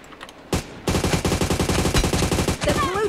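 Rapid automatic gunfire in PUBG Mobile during a team deathmatch on the Livik map, a loud close burst of evenly spaced shots after a single opening crack, with faint game sounds trailing at the end.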